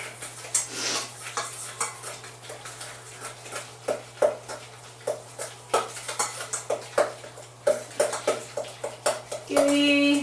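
Eggs beaten together in a bowl for rhubarb upside-down cake batter, a run of quick clinking whisk or spoon strokes against the bowl, close and fairly loud, with brief pauses and a steady background hum.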